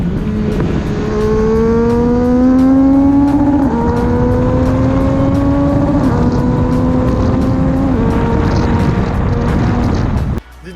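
A Yamaha DT motorbike fitted with a turbo revs loudly and steadily, its pitch climbing and easing across several rising sweeps with turbo whine riding on top, heard alone with no talking before it cuts off abruptly.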